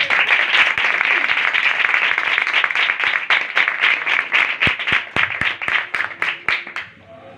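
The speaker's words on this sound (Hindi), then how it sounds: "एक बार जोरदार तालियां" Church congregation applauding together, steady dense clapping that holds for several seconds, then thins into scattered individual claps and fades out.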